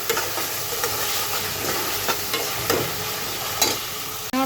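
Garlic and onion frying in a pan for a potol and rui fish curry: a steady, dense sizzle with occasional soft scrapes and taps of stirring, close and even throughout.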